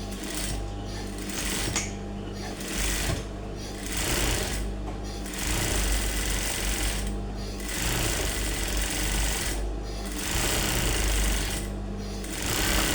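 Sewing machine stitching a smoke-grey crop top, a loud, continuous mechanical rattle of the needle at a steady pace, pulsing slightly as the fabric is fed, close up and without speech.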